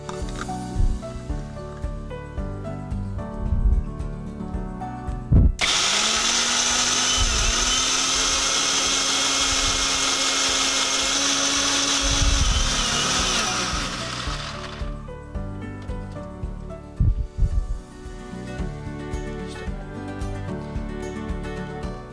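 A mixer grinder whirs steadily for about ten seconds as cashews are ground into a fine paste, with a rising pitch from the motor, starting and stopping abruptly between quieter kitchen sounds.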